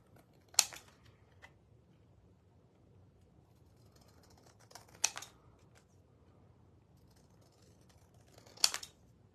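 Scissors snipping out an earring outline, three short crisp cuts a few seconds apart, close and fairly quiet against a low background hum.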